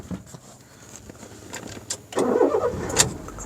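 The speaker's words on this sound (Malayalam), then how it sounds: "ഇതിപ്പോൾ പെട്രോളിലാണ് വണ്ടി സ്റ്റാർട്ട് ചെയ്തത്" A CNG car starts up on petrol: a brief crank catches, then the engine settles into a steady idle close by, with a few clicks and rattles just before and no talking.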